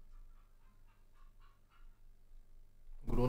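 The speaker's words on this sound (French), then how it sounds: "Y'a la poule." A chicken clucks outdoors in a run of short, soft calls, followed by a sudden loud burst of noise at the end.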